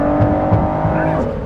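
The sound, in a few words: hypercar engine accelerating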